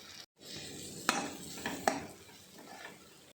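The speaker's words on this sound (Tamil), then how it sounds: "சாம்பார் பொடியை போட்டு வதக்கிக்கலாம்." Onion, tomato and sambar powder stirred and sautéed in a pan for paruppu urundai kuzhambu, with a soft steady sizzle and a few sharp spoon clinks against the metal.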